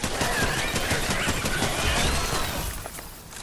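Rapid gunfire in the video game Fortnite crackles in dense, continuous bursts, loud and close, with no one talking over it.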